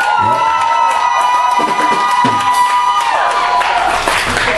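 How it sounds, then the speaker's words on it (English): Wedding guests at a ceremony clap and cheer together, with loud mixed applause, shouts and voices, and several sustained tones running underneath. "Can I get an applause?"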